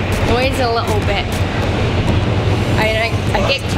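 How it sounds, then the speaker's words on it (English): Inside a moving train, a steady low rumble and rattle of the carriage runs throughout, with voices talking over it. "I'm on the train."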